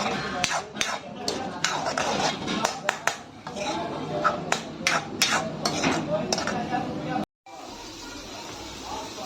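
A utensil stirs egg into tomato in a cooking pan for Indian egg chutney, giving repeated clinks and scrapes in an uneven rhythm. A voice sounds faintly underneath, and a brief silence falls near the end.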